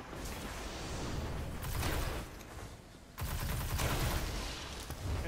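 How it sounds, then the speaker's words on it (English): Shotgun fire in the Destiny Crucible, a loud sustained burst of dense gunfire through the first half, a brief lull, then another heavy volley to the end. "I got a shotgun that shoots like a sniper rifle"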